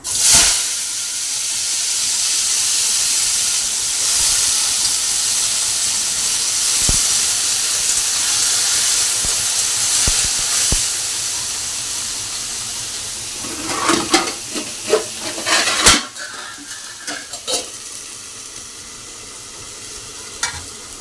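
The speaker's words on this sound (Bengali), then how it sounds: "এখন করছি দেখো উচ্ছে ভাজা" Bitter gourd frying in a pan gives a steady, close hiss and sizzle throughout, joined near the end by sharper clatter and scraping as the pieces are stirred; no one speaks.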